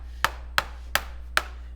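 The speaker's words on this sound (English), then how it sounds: "Sorry for that clacking noise, but that's how I ink up our plates." An ink roller clacks in four sharp, evenly spaced knocks while ink is rolled onto a plexi printmaking plate, close and loud over a steady low hum.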